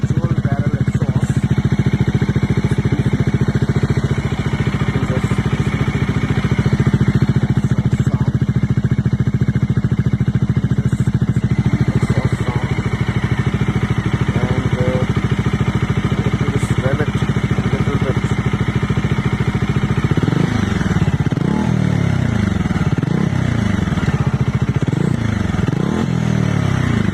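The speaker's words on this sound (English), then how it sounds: "me just start my brand new bike so that you can listen to the exhaust sound" A Bajaj Dominar 400 motorcycle with a dual barrel exhaust idles steadily up close, its low engine note holding throughout, then revs in a few rising and falling pulls near the end.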